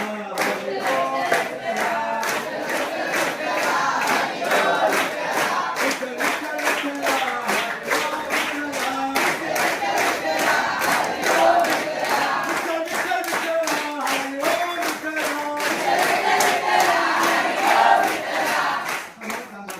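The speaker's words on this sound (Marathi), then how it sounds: "कुणी कुणी टाळ्या जोरात वाजवल्या" Audience at a school lecture in Hatkanangale chanting Vitthal together with loud, steady clapping, a dense crowd roar of voices and hands continuing throughout.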